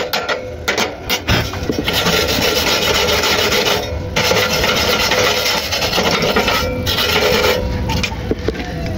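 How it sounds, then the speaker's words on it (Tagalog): Loud, sustained scraping and rasping as slag is chipped and brushed off a fresh weld on steel matting, with a few sharp knocks at the start and brief pauses between long strokes. "tsaka linisan natin, tikan natin para matanggal yung slag"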